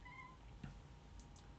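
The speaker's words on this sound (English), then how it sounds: "It's a little black cat." A small black cat gives a faint meow or two, heard quietly over a low background hum.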